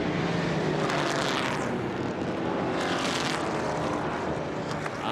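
Trans Am Series race cars howling past at Lime Rock Park, a loud continuous engine roar that swells and fades as cars sweep by, with no talk.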